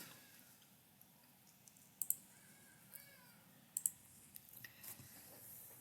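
A few sharp computer mouse clicks ring out close by, two of them especially crisp, spaced apart against a quiet room hiss with faint fainter ticks.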